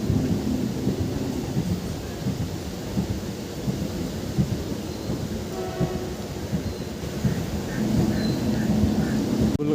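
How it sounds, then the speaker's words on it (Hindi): Train pulling into Tughlakabad station, a broad continuous rumbling roar with faint higher squeals and tones, steady and moderately loud throughout. "ये पहुंच गई अपनी ट्रेन तुगलकाबाद"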